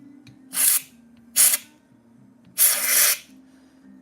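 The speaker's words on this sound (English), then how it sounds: "I'm gonna need some compressed air." Compressed air sprays in short bursts to clean a figure model being prepared for painting: three separate hissing blasts, two brief and one longer, close and loud over a low steady hum.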